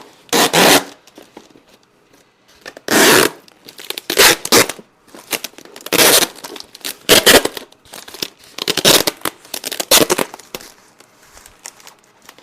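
Strips of tape, the only kind on hand rather than duct tape, ripped off the roll in repeated sharp tearing bursts, with crinkly handling between tears, close and loud during a winter sowing garden setup.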